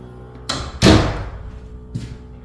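A newly trimmed and molded shed door, still lacking weather stripping, swings shut with one solid close thud, preceded by a lighter knock and followed later by a soft bump.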